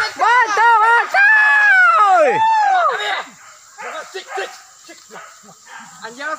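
Hunting dogs bark and yelp repeatedly during a wild boar hunt in rural Sijunjung, West Sumatra, loud and close in quick overlapping bursts, then fainter yips continue under background noise.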